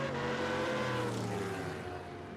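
A drag race at Tucson Dragway, with a long swing-armed Hayabusa motorcycle and a 1970 El Camino launching down the strip, gives a loud, steady engine roar that falls slightly in pitch as the vehicles pull away.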